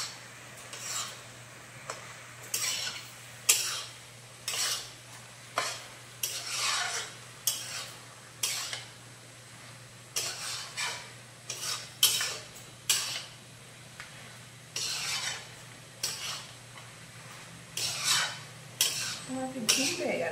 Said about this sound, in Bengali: পোস্ত দিয়ে একটু ভালো করে কষিয়ে নেব।